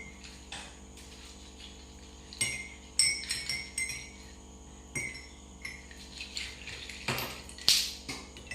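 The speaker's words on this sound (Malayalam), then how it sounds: "നമുക്ക് ഐസ് ക്യൂബ് ഇടാം." Several clinks and knocks of ice cubes dropping into a glass of milk nannari drink, irregular and close, over a quiet background hum.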